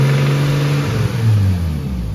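A Nissan R32 GTS4 engine with a spun bearing runs loud and close in a steady, rough drone, its pitch sagging and wavering slightly as it labors.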